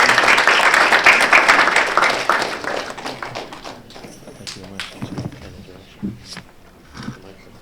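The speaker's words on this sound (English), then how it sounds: "please give a big round of applause to Mr. Michael Flaherty" Loud audience applause at a 2015 Boston Bangla Center community event greets a Boston city councilor after his introduction; dense clapping fills the first few seconds, then thins and fades to scattered claps.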